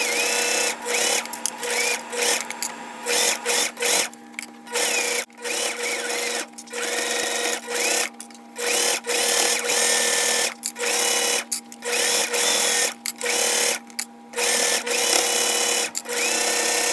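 A sewing machine runs in repeated loud bursts with short pauses between them, stitching two fabric panels for a bag at an eighth-inch seam. No voices are heard.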